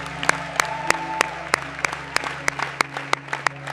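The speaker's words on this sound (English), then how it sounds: "The chamber, usually bound by formality and restraint, was breaking into applause." Delegates in the United Nations chamber clap, with sparse, distinct hand claps spaced irregularly over a steady low hum, sounding like a small scattered round of applause.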